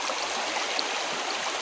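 Steady, close rush of water flowing inside Kendis Cave in Pagadian City, a continuous broadband wash with no pauses.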